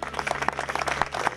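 Applause at an awards ceremony for a football trophy, a burst of dense clapping from a crowd, steady and moderately loud throughout the short moment.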